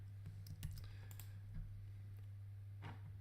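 A password is typed on a computer keyboard in a few quick bursts of soft key clicks, faint and close, over a steady low electrical hum.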